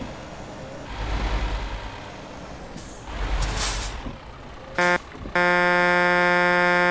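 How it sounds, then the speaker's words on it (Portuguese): A heavy truck in Euro Truck Simulator 2 rolls over speed bumps, producing two deep rumbling thumps over engine and road noise, followed by a brief beep and a sustained loud electronic buzzer tone. "olha a zoada do quebra-mola quando o caminhão passa"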